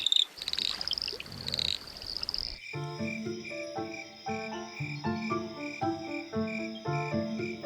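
Kloof frogs calling at a pool in KwaZulu-Natal in the evening, first a brief noisy splashing stretch, then a chorus of repeated clicking, tonal croaks in a regular rhythm, close and layered over each other.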